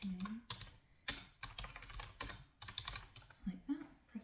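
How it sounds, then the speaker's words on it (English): Typing on a computer keyboard while searching a library catalogue, a quick uneven run of close, crisp key clicks with soft talk beneath. "So you just type in"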